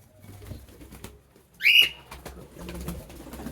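A Sirazi pigeon gives one short, loud call close by, standing out above quiet background rustling and soft shuffling.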